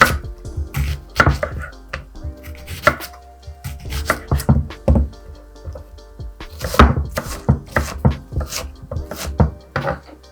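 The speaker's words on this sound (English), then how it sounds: "Chop the ends off, throw them in the bucket." A knife chopping a red onion on a board, with brisk, irregular bursts of close, sharp cutting taps and brief pauses between runs.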